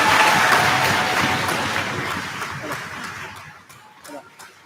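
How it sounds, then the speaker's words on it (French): Congregation applauding in a Protestant temple during a synod service, a dense burst of clapping that slowly thins and fades to scattered claps, with a voice speaking faintly over the tail. "On peut les applaudir."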